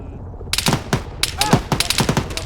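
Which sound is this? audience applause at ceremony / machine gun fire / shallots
machine gun fire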